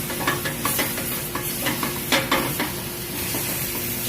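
Singapore noodles stir-fried in a hot pan, with a steady loud sizzle and repeated scraping stirs close by, no talking.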